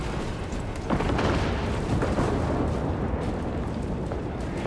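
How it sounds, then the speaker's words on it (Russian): Tank cannon fire and battle noise in the Warhammer 40,000: Space Marine 2 video game form a dense, continuous roar of booms and explosions with no clear pauses. "А, тут танк и пушка."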